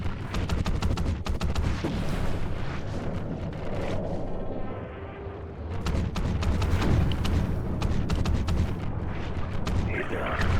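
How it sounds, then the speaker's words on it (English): Muffled gunfire underwater in Call of Duty: Ghosts, dense bursts of shots and rumbling booms running through most of the stretch, with a short quieter lull in the middle, no voices heard. "Firing weapons underwater does severely reduce their effectiveness."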